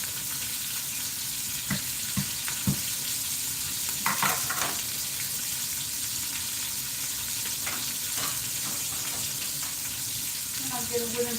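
Steady crackling sizzle of smashed garlic cloves frying in oil in an Instant Pot, close and continuous, with occasional clicks and scrapes of stirring over the constant hiss.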